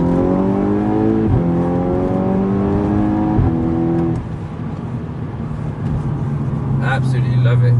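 A Mercedes W204 C63 engine pulls hard through rising revs, loud and steady from inside the car, with a shift break partway and a voice talking over it.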